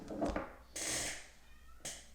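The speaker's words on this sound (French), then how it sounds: "j'ai mon chat qui fait que miauler" A house cat meowing indoors, a few drawn-out cries in close succession, fairly near and clear, with no talk over them.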